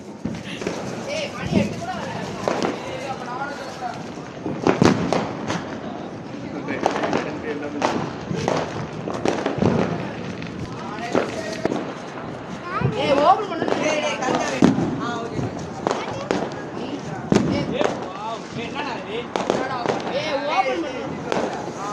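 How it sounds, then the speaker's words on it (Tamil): Diwali firecrackers go off in a rapid, irregular string of sharp cracks and pops, some near and loud, with people talking and calling out throughout. "வாங்க ஒன்றா வெடி வெடிக்கலாம்."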